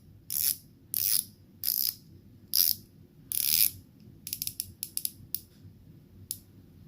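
A unidirectional bezel on an Invicta Reserve Hydromax dive watch is turned in several ratcheting bursts, then a quicker run of crisp, separate clicks, close and clear with no talk.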